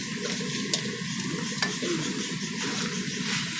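Rendered pork fat being stirred with tomatoes in a pan, a loud close sizzle under rhythmic scraping and stirring strokes, with occasional sharp clicks of the utensil against the pan.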